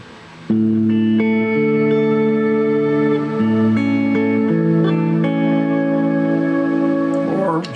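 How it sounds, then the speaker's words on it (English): Electric guitar played through a JMP amp with reverb on, clean sustained chords changing every second or so, ringing loud and full with a lingering echo. "If I want through with reverb,"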